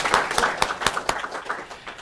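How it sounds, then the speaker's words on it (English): A small audience gives quick applause after a presentation, a brief burst of close, uneven hand claps that gradually thins out over about two seconds. "quick applause for the ping pong presentation"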